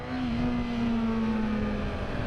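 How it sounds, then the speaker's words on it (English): A 2017 Yamaha R6 sport motorcycle in A mode with stock exhaust holds a steady, loud engine drone at a near-constant pitch, dipping slightly and recovering, up close and with no talk over it. "So I'm on Katie's 2017 Yamaha R6 in A mode"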